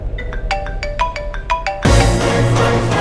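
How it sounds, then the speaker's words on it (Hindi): An electronic phone ringtone plays a quick series of bright beeping tones, then stops abruptly and gives way to a loud, broad noisy hiss. "किसका फोन बज रहा है?"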